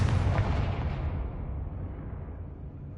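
Fiery Confringo spell explosion in the Hogwarts video game, a deep booming blast with a rumbling tail that fades out over a few seconds, heard with no talk.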